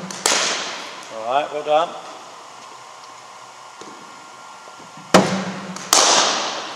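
Cricket bat striking a ball at an academy session: a sharp crack at the start, then two more crisp hits later, each followed by a brief hiss of ambience, with a voice speaking briefly between them.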